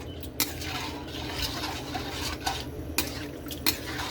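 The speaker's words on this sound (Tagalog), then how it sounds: "lagay na natin yung pangalawang gata. Ihalo lang natin." Second coconut milk being stirred into laing in a pot, a soft ongoing scraping stir broken by several sharp utensil knocks against the pot's rim, close by.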